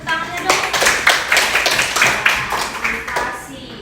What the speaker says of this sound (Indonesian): Kan tepuk tangannya dong.